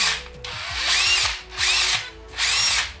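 A Hilti SF 6-A22 cordless drill running on a B22 battery pack, close and loud, whirring in three separate bursts that ramp up and hold before easing off between them.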